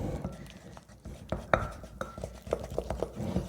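Batter being mixed in a bowl with a utensil scraping up the sides, producing a run of close, irregular taps and soft knocks against the bowl, with faint breathy voice sounds in the background.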